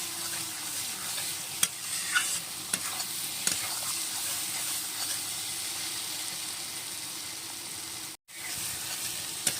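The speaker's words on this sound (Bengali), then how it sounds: "ভালো করে কষিয়ে নেবো এইভাবে আস্তে আস্তে নেড়ে নেড়ে।" A spice masala sautés in a pan for Bengali katla fish head kalia, a continuous close sizzle with slow, occasional stirring scrapes and light clicks, briefly cut off near the end, no speech.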